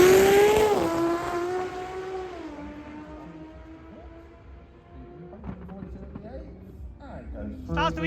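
A front-wheel-drive drag race car launching down the strip: a loud high engine whine drops sharply as it pulls away and fades into the distance, followed by more engine noise and crowd bustle building, with a commentator talking over it.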